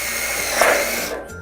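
A power drill drives screws into a steel Absco shed and garage frame, giving one brief, loud, close whirring burst that cuts off abruptly.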